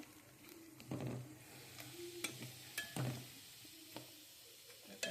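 Dry fruits sauté in ghee for carrot halwa, a faint low sizzle under several distinct spatula scrapes against the pan, with no talking.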